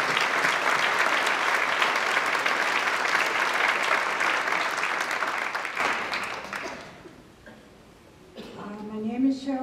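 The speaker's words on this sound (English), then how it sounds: "Please join me in welcoming Cheryl Childers" An audience applauds to welcome Cheryl Childers at an art show at the Methodist Community Center in Moundsville, West Virginia. Dense, steady clapping lasts about seven seconds, then thins out and stops as a voice begins.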